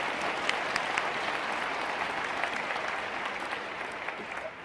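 Steady audience applause fills a hall at a live public discussion, an even wash of many hands clapping at moderate distance throughout, fading slightly toward the end.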